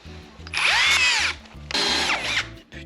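Power drill boring into the metal of a vehicle part being reinforced, two loud sustained bursts of whining drilling with a rising and falling pitch, separated by a short pause, close up.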